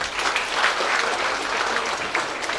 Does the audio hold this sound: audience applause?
yes